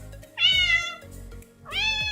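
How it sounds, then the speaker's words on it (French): A cat meows twice, each a clear, close, drawn-out cry separated by a short pause, with no talking around it. "T'as fait rentrer un chat?"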